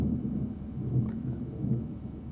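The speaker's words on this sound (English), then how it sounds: "there's some thunder going on where I am" Low rumbling thunder rolls continuously through the background during a storm, a steady, muffled roar with no distinct crack.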